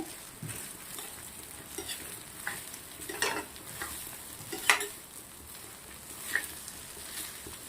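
Cooked basmati rice being stirred into parwal masala in a pan, soft scraping strokes and light sizzling at irregular intervals, quiet and close with no talking.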